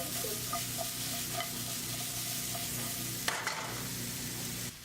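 Beef short ribs and mushrooms frying in a pan, a dense continuous sizzle with light stirring clicks and one sharp knock near the end, with no talking.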